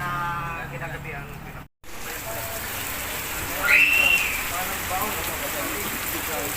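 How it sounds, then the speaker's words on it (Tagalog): Heavy rain roars in a dense, steady hiss with a momentary break, faint voices buried beneath it. "Dahil sobrang ulan."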